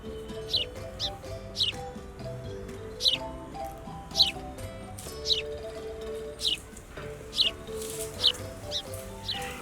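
House sparrows chirping in short, sharp bursts, spaced irregularly over a soft background of sustained musical tones.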